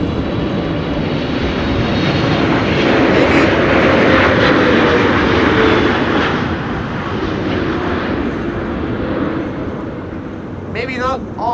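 A Royal Jordanian airliner in oneworld livery sits in high winds at Amsterdam Schiphol, a loud, sustained jet engine roar with gusting wind, someone talking over it.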